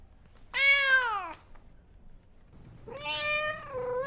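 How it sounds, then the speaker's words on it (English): An old, fluffy cat among bookshop shelves gives two clear, drawn-out meows close by, the first falling in pitch and the second rising and wavering, with a short quiet gap between them and no talking. "there is this ancient cat who is just chilling among the bookshelves"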